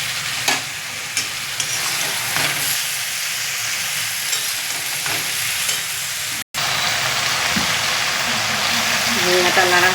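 Cumin seeds frying in a hot pan, giving a continuous loud sizzle with occasional stirring clinks and a brief break midway, with faint voices in the background.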